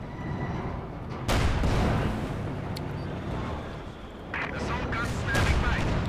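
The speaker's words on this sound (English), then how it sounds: "Mortar firing in support though." Mortar and 57mm anti-tank gun fire in the Company of Heroes 2 video game: several heavy booms and thumps over a constant battle rumble, with commentary talk running underneath.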